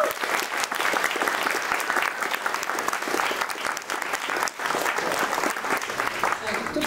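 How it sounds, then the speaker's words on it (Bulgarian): An audience at a high school diploma ceremony for a 12th-grade class applauding their teachers: sustained, dense clapping from a crowd, steady and fairly close, with a brief dip midway before resuming. "искам едни силни аплодисменти"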